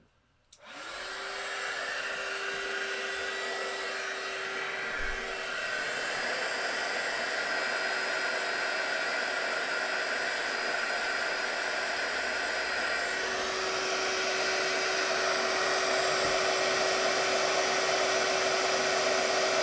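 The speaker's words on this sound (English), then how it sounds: "I'm just going to do the same again with my heat gun. Heat it up, let it get warm first." Heat gun blowing steadily to melt white embossing powder on Sun Prints paper, a loud continuous whoosh with a high whine that starts abruptly and holds for the whole stretch, no talking.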